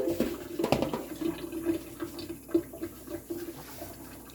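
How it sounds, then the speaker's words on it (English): Cold water runs from a tap into a kitchen sink during home Korean BBQ prep. It is a steady, close rush with a few light knocks and splashes, and no voices. "get a running tap going, make sure the water is cold, and I'm going to just run this through some cold water"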